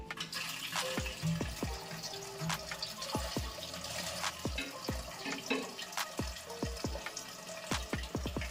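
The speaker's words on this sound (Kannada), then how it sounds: "ನೋಡಿ, ವಾಟರ್ ಫಿಲ್ ಆಗಿದೆ." Water pours into a newly fitted toilet commode cistern through its inlet, a steady close rush of water with a run of bright plinking drips throughout. No one speaks.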